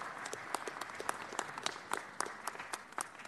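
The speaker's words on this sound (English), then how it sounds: "Let's give them all a round of applause" Steady applause from a crowd at a city council meeting, many hands clapping continuously at moderate volume with no voices standing out.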